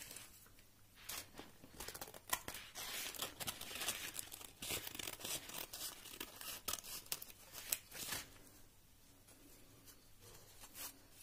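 Scissors cut through folded paper while shaping leaves for paper tulips, a steady run of close, crisp snipping and rustling with occasional louder crinkles, no talking.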